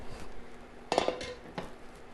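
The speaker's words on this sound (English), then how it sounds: "So let's get ready to rattle some pots and pans" Pots and pans clatter in a home kitchen while fries and crispy fried cod are being cooked, with a few short metallic knocks and rattles near the middle and a softer clink later, fairly quiet with no talking.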